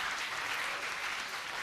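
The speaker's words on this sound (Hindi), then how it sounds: "जोरदार तालियां बजाइए" Sustained, dense clapping from an audience at a bait baazi poetry-couplet contest, honouring two competing teams; a steady, even wash of applause from start to finish with no voices over it.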